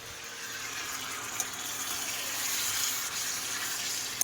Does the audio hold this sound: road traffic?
no